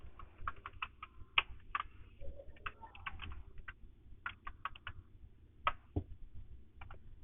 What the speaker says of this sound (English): And then type your email ID.